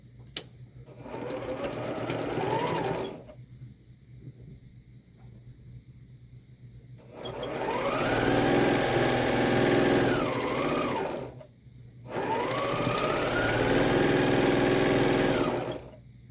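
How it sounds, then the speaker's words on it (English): A sewing machine stitches quilt block pieces together in three long runs, its motor whirring steadily and loudly for a few seconds each, with short quiet pauses between. "So I'm going to sew these together first."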